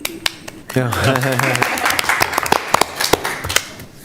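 Participants at a county economic development commission meeting give a few light, scattered claps, sparse and uneven, mixed in with a voice talking.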